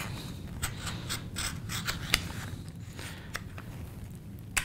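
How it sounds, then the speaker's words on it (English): Paper is cut and scored with a Template Studio cutting guide, giving a series of quiet scraping, clicking strokes with small ticks and taps, close up and without talking. "using my cutting guide, I'm going to cut through the center here of my"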